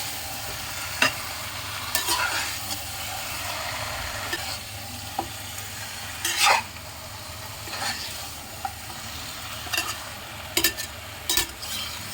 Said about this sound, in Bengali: দেখুন বন্ধুরা মাংসটা আমি ভালো করে মিশিয়ে নিয়েছি